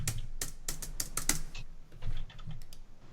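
Rapid keystrokes clatter on a computer keyboard, close and crisp in quick bursts followed by sparser taps, with no talking.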